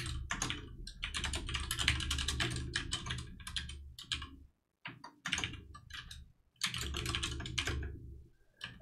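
Rapid clattering keystrokes on a computer keyboard while someone writes Python code, coming in dense close bursts with a couple of brief silent gaps.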